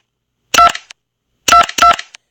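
Three short bursts of telephone dialing tones, one alone and then two in quick succession, loud and clear with silence between them.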